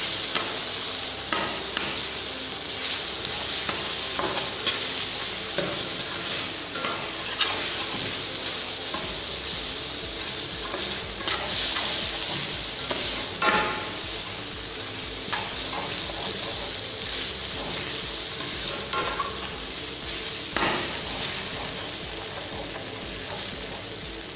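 Pad Thai is stir-fried in a wok over very high heat, producing a loud, continuous sizzle and hiss with scraping stirs and no talking.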